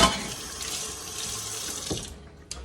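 Tap water runs steadily into a container to fill a batch of pineapple vinegar, a close hissing stream that stops abruptly near the end.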